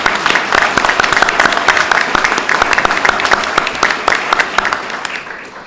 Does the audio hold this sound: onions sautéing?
no